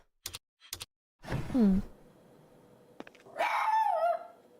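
A dog in a mystery adventure video game barks twice, then lets out two short whining yelps and a longer rising-falling whine, close and clear with no talking.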